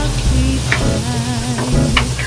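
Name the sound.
searing food in a pan to get a crust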